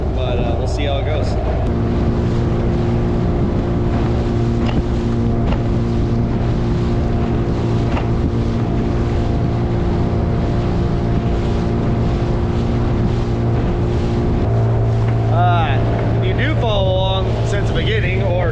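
A Highfield dinghy with an outboard motor runs on open water, its engine droning steadily and loudly over wind buffeting the microphone, with a shift in engine pitch near the end.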